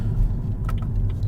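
BMW M235i cruising at moderate speed, a steady low road and engine rumble with tyre noise, a few faint clicks and ticks on top.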